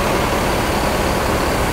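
Dense, steady engine rumble from an NPM bus at Kampung Rambutan bus terminal, a loud continuous low drone with broadband noise and no voices.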